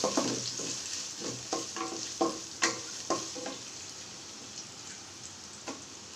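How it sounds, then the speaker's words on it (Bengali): Chopped onion hits a pan where ginger is already frying, producing a soft, low sizzle punctuated by a series of light spatula taps and scrapes that thin out toward the end. The sound is quiet and close, with no talking. "আদাটা ভাজা হয়ে গেছে, এখন আমি পেঁয়াজটা দেব"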